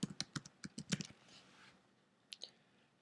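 Typing on a computer keyboard while entering a search term into event-analysis software: a quick run of crisp, close key clicks in the first second, then a pause and two more taps, with no talking.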